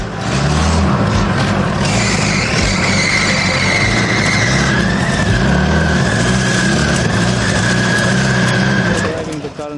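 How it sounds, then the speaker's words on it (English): A home-built mini Cybertruck car with a mirrored gearbox drives into a workshop, a loud close engine and drivetrain whine rising and holding steady, with thumps and rattles along the way. "Driving the car into the workshop"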